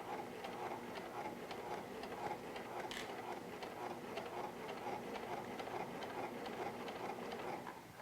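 A sewing machine runs steadily while stitching in the ditch on a fabric face mask, a continuous fast needle chatter at moderate, even volume with a faint tick partway through.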